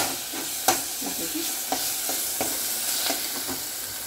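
Red chilli powder and masala spices sizzle and fry in a pan for a Maharashtrian valyache bhirada, steady close crackle broken by several sharp scrapes and clinks of a spoon stirring.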